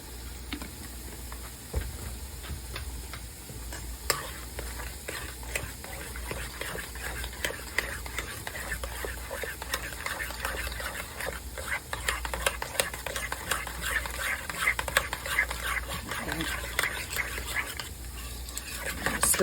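A spoon stirs heavy whipping cream and lemon juice together in a bowl, giving a steady wet scraping and clinking that runs continuously and close throughout.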